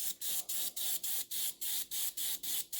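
Spray paint goes onto a model Project 955 Dolgoruky submarine in about ten short, even bursts of hissing, close and steady in rhythm, each cut by a quick gap.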